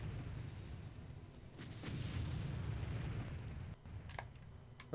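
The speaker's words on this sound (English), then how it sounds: "The explosions in this game are quite nice." Explosions rumble through the video game Super 64 332-in-1, a sustained low booming roar with a few sharper bursts, heard alone without speech.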